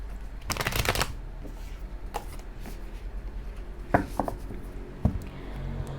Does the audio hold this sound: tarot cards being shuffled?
yes